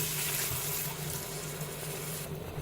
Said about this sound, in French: J'ajoute de l'eau